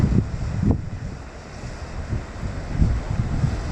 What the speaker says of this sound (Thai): แล้วมีลมด้วยยิ่งทำให้หนาวขึ้นไปอีก